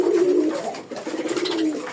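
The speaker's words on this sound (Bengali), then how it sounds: "তো দেখেন আমার কবুতর" Pigeons cooing in a freshly cleaned loft at feeding time, loud, close, repeated throaty coos overlapping one another with no talking.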